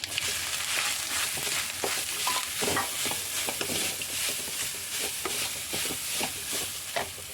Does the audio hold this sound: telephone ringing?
no